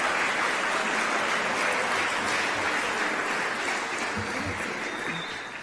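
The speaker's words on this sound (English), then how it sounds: "Let's give a round of applause." A room full of guests at a 2018 athletic awards banquet applauds in a dense, loud, continuous burst that tapers slightly near the end.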